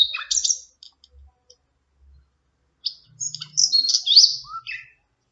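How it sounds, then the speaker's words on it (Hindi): Birds chirping and tweeting in quick bursts of high, bright calls, a flurry at the start and a longer busy spell later, with quiet between. "ये है चिड़िया की आवाज।"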